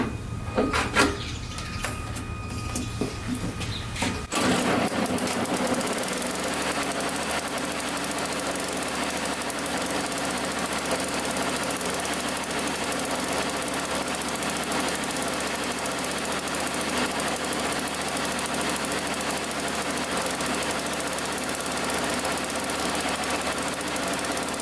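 A snowblower engine, freshly reassembled after carburetor repair, cranks over and catches within a few seconds, then settles into a steady, loud running drone that continues alone with no talking.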